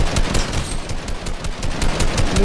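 Rapid, loud bursts of combat pistol gunfire from a video game, shots packed closely into a dense, continuous volley with no talking.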